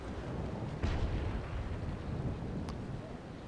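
Sailing-ship cannon fire in the Naval Action game, Bellona ships against a Victory: a deep rumbling boom rolls in and sustains a broad low roar, with a faint sharper crack near the end and no speech.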